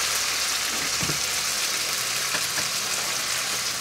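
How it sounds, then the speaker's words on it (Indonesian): Sweet potatoes fry in hot oil, giving a dense, continuous sizzle with a few soft clatters from stirring, close and fairly loud throughout with no talking. "Ini sambil itu goreng apa teh? Goreng ubi."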